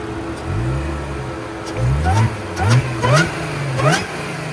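A 2015 Audi S5 with a supercharged 3.0L V6 and ECS cat-back exhaust revs hard several times in quick bursts, each one climbing and falling away, with a high supercharger whine riding over the exhaust note. The car is close by and loud.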